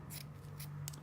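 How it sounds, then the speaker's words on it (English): Scissors snipping through the sleeve of a plain T-shirt, three short quiet cuts spaced across about a second against a steady low hum. "I will go cut the sleeve off the other one as well"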